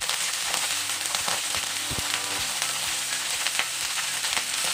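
Cauliflower florets and potato pieces fry in hot mustard oil over a medium flame, giving a steady, close sizzle with crackling pops and a few stirring scrapes.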